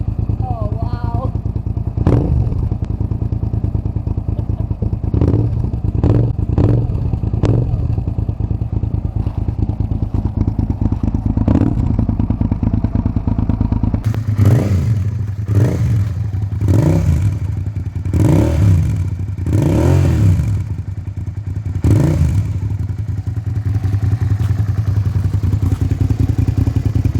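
A 1999 Suzuki SV650S fitted with a Delkevic 350mm exhaust idles nearby with a steady deep throb, then a handful of sharp revs rise above it, while people talk over the engine.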